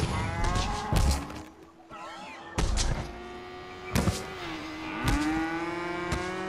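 Cow mooing in a deserted 1v1 random loadout video game, a few drawn-out low moos with gliding pitch, close and fairly clear, mixed with thumps and clunky game effects.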